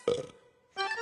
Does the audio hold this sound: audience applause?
no